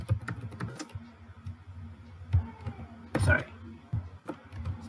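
Computer keyboard typing during a web development lesson, heard as scattered soft key clicks with a few louder bursts. The clicks sit under a low background hum.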